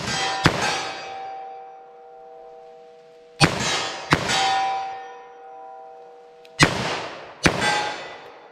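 .38 Special +P revolver fired in an outdoor ballistic test, four sharp gunshots at irregular intervals, each followed by a ringing metallic clang of the target and a fading echo, with no talking.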